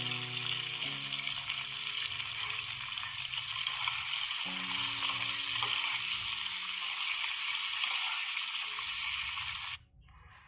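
Potatoes frying in oil with turmeric and salt give a steady, close sizzle with faint stirring, then stop abruptly near the end.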